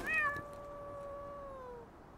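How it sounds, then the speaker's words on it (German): A single drawn-out cat meow from the video game Chimeras, close and clear, rising briefly and then sliding slowly down over about two seconds. "Katzen."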